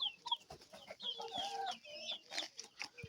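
Three-month-old Turkish Shamo chickens cluck and call in short, irregular bursts close by, with several birds overlapping and no talking.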